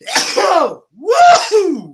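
A person sneezes twice in close succession, each a loud, sharp burst up close, with a short pause between them.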